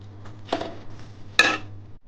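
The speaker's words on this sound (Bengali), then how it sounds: "এবার আস্তে করে ভালো করে এটা একটুখানি নাড়াচাড়া করে নিতে হবে।" A spoon stirring semolina halwa made with milk in a pan gives two brief metallic scrapes and clinks against the pan, with quiet pauses between them.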